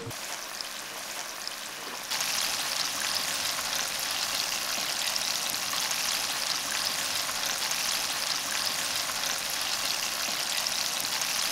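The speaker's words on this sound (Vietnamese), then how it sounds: "Sau đó cho ngay vào dầu nóng để chiên." A sudden loud sizzle as batter-coated tofu hits hot oil, then a steady, dense crackling fry that continues evenly, with no talking.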